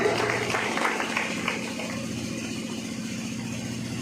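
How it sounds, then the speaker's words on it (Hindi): A crowd applauds at an office inauguration ceremony in Panwari, a brief burst of clapping that quickly fades under a steady low engine-like hum. "माला अर्पण करके जोरदार ताली।"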